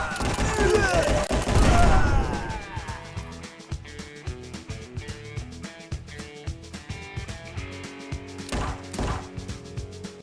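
Gunfire in the VR shooter game Gun'n'Stries: Bulletproof, a dense loud volley of shots at first, then scattered sharp reports and clanks with another heavy burst near the end.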